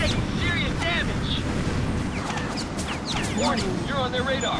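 A ship explodes in the 2009 jet-combat video game Tom Clancy's H.A.W.X: a continuous loud roaring rumble of blast noise fills the scene, laced with sweeping whistling tones, while voices come faintly through.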